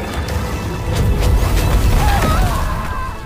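A loud explosion swells into a broad, rumbling roar that lingers for a few seconds.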